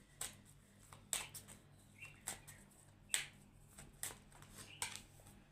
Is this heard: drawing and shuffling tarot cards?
yes